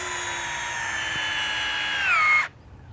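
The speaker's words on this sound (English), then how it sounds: "We're going to drive a 2-inch screw right into some poplar." A Festool CXS compact cordless drill drives a 2-inch screw into poplar, a steady high whine that holds for about two seconds, dips in pitch as the screw seats, then cuts off sharply.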